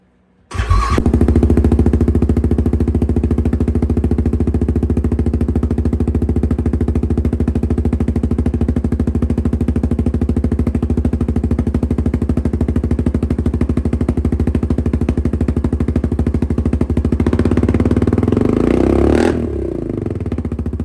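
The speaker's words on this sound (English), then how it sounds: "We'll do a startup on it, let idle for a little bit. This is with just the way it comes." A stock-exhaust Yamaha Grizzly 700 ATV cranks and catches from cold, then settles into a loud, steady, close idle that holds for nearly twenty seconds before dropping off.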